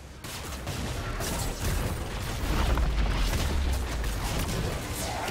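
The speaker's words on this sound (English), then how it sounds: "Red team's turret has been destroyed." A turret is destroyed in League of Legends with a sustained, rumbling in-game explosion, booming low and steady for several seconds amid crackling bursts, with no talk.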